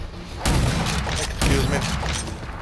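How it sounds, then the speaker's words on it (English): Shotgun blasts in the shooter RAGE 2, two loud, punchy booms about a second apart, each followed by a rough, rumbling decay, with game noise continuing underneath. "I guess it's shotgun time now."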